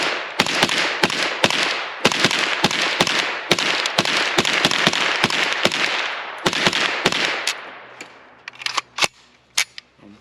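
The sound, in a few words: gunfire from a KUSA KR9 AK carbine with faux suppressor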